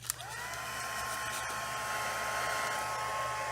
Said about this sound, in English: Using the heat tool to melt that.